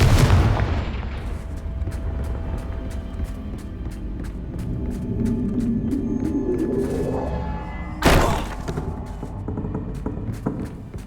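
Confringo fire spell blasts in the video game Hogwarts Legacy, a heavy booming explosion that opens the clip and rumbles away, then a second sharp blast about two thirds through, loud and close over a steady game background.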